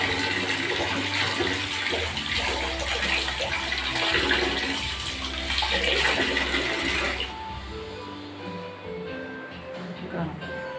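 Hot water gushes steadily into a bucket, a loud rushing flow that stops abruptly near the end, with voices talking over it.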